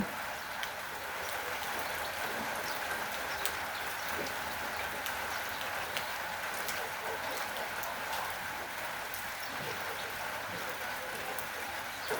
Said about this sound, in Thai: เอาบรรยากาศเนี่ยเมื่อแรงฝนตก มาฝากจ้า